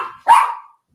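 A dog lets out a single sharp bark up close, preceded by the tail of an earlier sound, followed by quiet.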